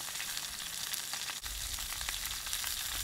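Steady, crackling sizzle of steak and mushrooms frying in a crowded pan over an outdoor camp stove, continuous and close, with a brief shift midway as something is stirred.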